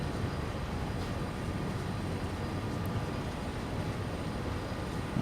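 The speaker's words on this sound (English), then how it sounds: "Especially a freight train when you're not stopping and starting all the time." Freight train cruising at full throttle in Train Sim World 3, an aggregates working from Newhaven to Acton Yard: continuous broad rumble of engine and wheels, steady level with a faint high click near the middle, no voices.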